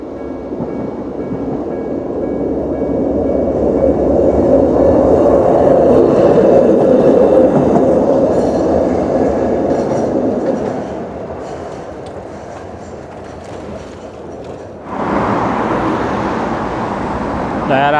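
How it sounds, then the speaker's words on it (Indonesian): The Sakura Tram streetcar in Ikebukuro, Tokyo, rumbles loudly past with a rolling rail clatter that swells and then fades. A sharper burst of noise follows near the end. "Ini Sakura Tram. Oh, datang dari sana."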